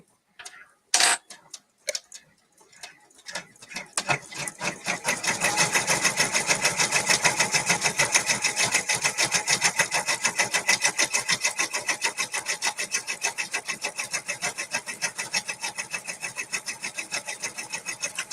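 An embroidery machine stitching out a puff design, starting with a few sharp knocks, then settling into a steady, fast mechanical ticking rhythm that runs loud and close throughout with no talk.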